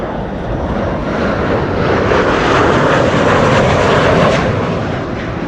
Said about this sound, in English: KLM 737 flight 1030 arriving from Persenchester